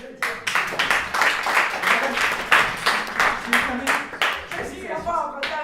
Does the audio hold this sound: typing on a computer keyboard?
no